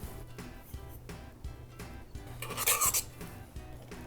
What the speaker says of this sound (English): it's time to fill our cupcakes